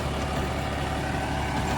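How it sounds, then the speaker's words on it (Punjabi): A tractor engine runs steadily while dragging a rotavator through a field, producing an even, unbroken heavy rumble with no speech over it. "ਬਿਲਕੁਲ ਆਰਾਮ ਨਾਲ ਚੱਲ ਰਿਹਾ ਹੈ ਟਰੈਕਟਰ"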